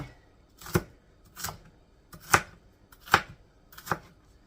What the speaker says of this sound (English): I'm not going to cut them in big slices or in little chunks. I'm just going to kind of do in between.